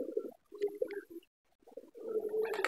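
Pigeons coo at a pigeon house in the afternoon, low throaty calls nearby in two bursts separated by a short silence.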